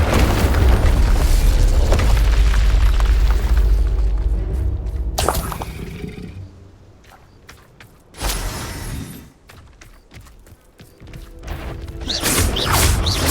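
Heavy booming spell blasts and crashing impacts from combat in the Hogwarts Legacy video game, loud and dense at the start, dropping to a quieter stretch with a sharp burst near the middle, then building again to loud clashing bursts.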